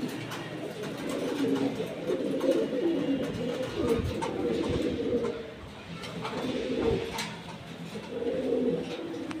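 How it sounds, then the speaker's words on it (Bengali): Pigeons cooing continuously at a pigeon seller's stall, several birds layered in a steady, moderately loud murmur of low coos with occasional faint chirps. "দেখেন অনেক ধরনের কবুতর পাবেন"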